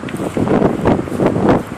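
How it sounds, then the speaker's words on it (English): Loud gusts of wind buffeting the microphone in uneven surges, rumbling and roaring without any speech. "I'm going to try and get away from the wind because it's real windy"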